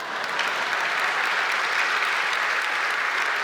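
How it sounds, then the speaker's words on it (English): Dense, steady audience applause fills a gala hall at the 2024 Julia Child Award presentation during a food history gala. It stays loud and continuous throughout, with no voices over it. "And now is the moment for you to clap."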